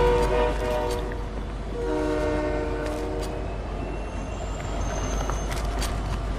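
A train in the video game Fortnite sounds its horn in long, loud blasts over a steady rumble of rolling wheels, and a fainter horn answers further off near the end.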